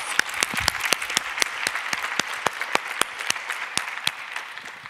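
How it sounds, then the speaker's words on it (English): Steady applause from an audience, many hands clapping with a few sharper individual claps standing out, lasting several seconds before fading slightly. "Quick round of applause."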